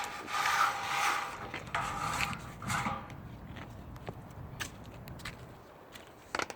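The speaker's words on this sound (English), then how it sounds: "If you just pull off this little tab, you can pull the hose out." An RV sewer hose is dragged out of its storage tube in the rear bumper, giving close, loud scraping and rubbing at first that fades into lighter shuffling and faint clicks.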